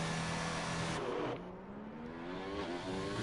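Renault Formula 1 car in an F1 racing game powering out of the last corner at Barcelona, engine whine dropping sharply then climbing again as it accelerates, brief and fairly faint with no voices.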